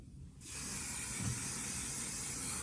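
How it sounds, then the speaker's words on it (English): Aerosol hairspray sprays steadily onto hair being styled into big waves, a continuous close hiss starting abruptly and holding without pause. "we're gonna go in with hairspray"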